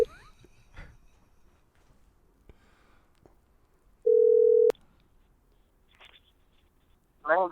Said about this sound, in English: we're gonna call Duncan